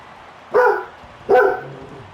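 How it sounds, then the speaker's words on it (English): A dog barks twice in quick succession, loud and fairly close, each bark short and sharp against a quiet background. "Sorry about the dog there."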